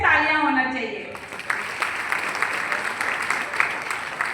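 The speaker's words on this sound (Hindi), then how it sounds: "एक बार फिर से तालियां होना चाहिए" A voice speaks briefly at a business meeting, then an audience breaks into loud, dense applause that fills the rest of the clip, with individual claps popping through the steady wash of hands.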